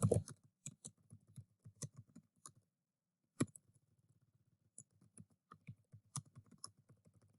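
Typing on a computer keyboard comes as quiet, close, irregular key clicks in quick runs with short pauses, and one sharper tap partway through.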